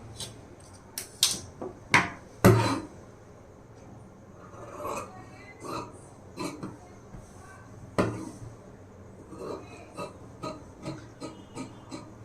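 Scissors snipping through lining fabric for a size 36 blouse, giving a series of irregular close crisp cuts and rustles with brief sharper bursts near the start, no voices present.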